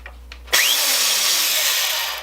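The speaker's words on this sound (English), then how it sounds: "It's a Black & Decker 1/2 inch by 18 inch belt sander." A Black & Decker 1/2 by 18 inch belt sander switches on abruptly after a couple of faint clicks and runs loud and steady, a dense whirring roar that holds close and constant to the end.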